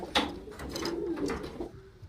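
Pigeons coo softly up close in a short stretch of low, throaty calls, with faint background noise.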